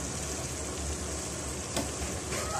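Oil sizzles steadily in a pot of cooked, tender mutton, a continuous close frying hiss with a faint stir or clink near the end, no talking.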